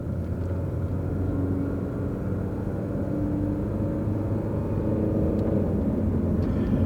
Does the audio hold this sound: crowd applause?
no